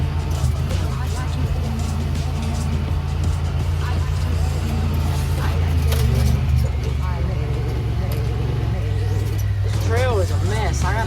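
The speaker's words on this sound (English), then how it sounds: "This thing's really fun to trail ride in." A 2022 Honda Pioneer 1000-5 side-by-side driving a wooded trail, steady low engine drone with rattles and bumps throughout, while someone talks over it.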